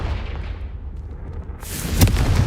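A Confringo fire spell bursts in Hogwarts Legacy, a sudden heavy blast erupting after a quieter low rumble, loud and close, with a crackling tail.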